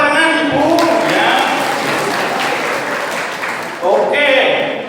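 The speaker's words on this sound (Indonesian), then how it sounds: "Ya, tepuk tangan Ibu ya." Audience applause at a Catholic Easter prayer gathering, a short burst of clapping mixed with voices and chatter close by.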